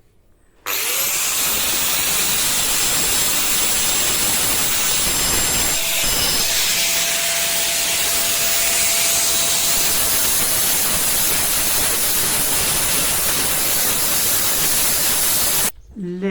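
An angle grinder fitted with a flat disc smooths a carved granite relief of the Carmelite shield. A loud, steady, hissing grind runs almost unbroken for the full length, then cuts off abruptly at the end.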